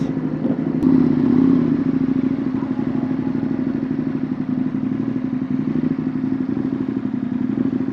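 A group of Kawasaki H2 motorcycles pulls away, their engines a continuous low rumble with mechanical clatter, steady and fairly close without any talking.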